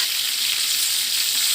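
Steady, bright sizzling of chicken frying in a hot pan for adobo, a continuous crackling hiss with no talking.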